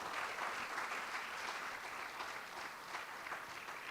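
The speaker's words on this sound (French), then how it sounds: "Ne soyez pas timide quand vous applaudissez" A church congregation applauds steadily and evenly for the full stretch, a dense wash of many hands clapping at moderate loudness with no talk breaking through.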